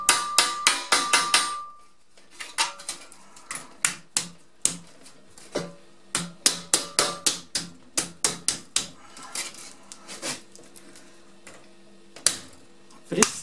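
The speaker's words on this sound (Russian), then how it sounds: "Пристукиваем." A hammer taps a folded seam in roofing sheet metal, a long series of sharp, close metallic knocks, some in rapid runs and others spaced out, with no talking.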